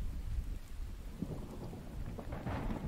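Steady rain hisses through a thunderstorm in the survival game The Infected, with deep rumbling thunder rolling underneath and no voices.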